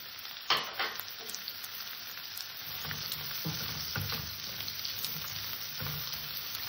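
Diced carrot fries in white cooking oil with cumin seeds, giving a steady close sizzle with a few sharper crackles and stirring scrapes; nobody speaks.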